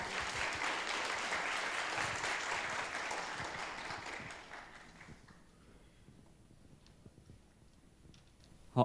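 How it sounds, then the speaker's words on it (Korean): Audience at a youth talk concert in Korea claps warmly to welcome a student speaker, a full burst of applause lasting several seconds before fading to quiet, then a brief sharp noise at the end. "여러분 박수로 맞이해 주시기 바랍니다"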